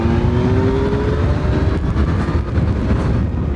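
A 2016 Kawasaki Versys 1000 motorcycle accelerating hard, its loud, continuous engine note climbing in pitch as it pulls, with no one talking.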